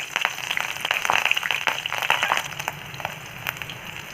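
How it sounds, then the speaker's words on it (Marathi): Chopped chili sizzles in reused hot oil while raw banana curry is cooked, giving a steady close crackle with sharp popping spatters throughout and no talking. "तेलामध्ये मी चिरलेली मिरची"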